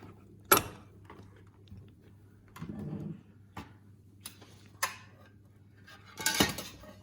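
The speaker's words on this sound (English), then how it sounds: "I'm just going to empty the mix into these two wee baking trays." Cake mix being emptied into two small baking trays in a home kitchen, with quiet clinks and scrapes of metal utensils against tins and a few sharper knocks, faint and intermittent.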